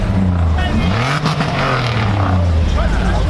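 A Hemi car engine at a car meet rumbles low and loud nearby, with a brief rev rising and falling, while people talk over the engine noise.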